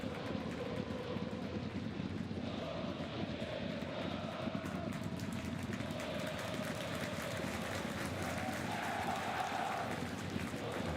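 Stadium crowd at a third-division football match between VfL Osnabrück and Energie Cottbus, a steady, dense roar of applause and noise that holds evenly through the whole stretch with no clear breaks.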